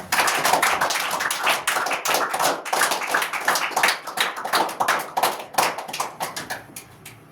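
Children clapping their hands during a classroom game, a steady run of quick sharp claps lasting several seconds, loud and close, with no talking.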